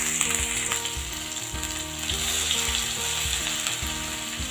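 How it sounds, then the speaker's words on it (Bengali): Ginger paste fries in oil with cinnamon and cardamom for a koi fish curry, giving a bright, steady sizzle with small stirring clicks over continuous background music. "আদাটাকে একটু ভেজে নেব।"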